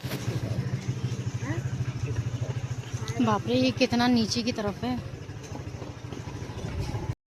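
Motorcycle engine running steadily on a weekend trip to Ram Jhula and Chilla Barrage near Rajaji Tiger Reserve, a close, continuous low idle throb under excited talk.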